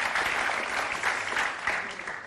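Dense, sustained applause from a studio audience for the singer, a steady close wash of many hands clapping at once with no break.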